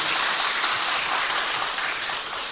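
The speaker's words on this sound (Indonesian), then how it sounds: "Tepuk tangan untuk kita semuanya." Audience at a Kulon Progo regency ceremony applauding, a dense, steady wash of clapping that stays at an even level throughout.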